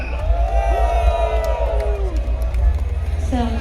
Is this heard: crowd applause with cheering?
yes